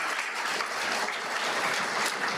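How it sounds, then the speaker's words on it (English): Audience applause fills a graduation ceremony hall, a steady dense wash of many hands clapping throughout, loud and sustained with no talk over it. "You may give a very big round of applause for your achievement"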